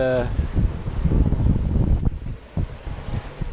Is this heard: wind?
yes